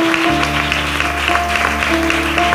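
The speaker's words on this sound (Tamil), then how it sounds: "நல்ல கைத்தட்டி ஆண்டவருக்கு நான் நன்றி சொல்றேன்" A church congregation claps hands together in praise during a Tamil worship service, a dense, steady wash of applause blended with sustained organ-like musical tones.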